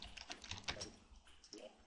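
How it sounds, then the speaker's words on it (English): A command typed on a computer keyboard, a quick burst of close, quiet key clicks lasting under two seconds. "if I type in one of the commands that is given to you with the DLL"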